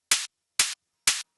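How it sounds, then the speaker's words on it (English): Three open hi-hat hits built from white noise, each a bright, hissy burst of about a sixth of a second with a sharp attack and quick cutoff, spaced evenly about half a second apart with silence between. "Same story, but different flavor with the open hat."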